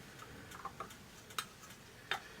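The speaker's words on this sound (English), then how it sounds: "So we're just going to put our lids on." Metal canning lids being set onto glass jars, a handful of light clicks and taps spaced irregularly, close and fairly quiet with no talking.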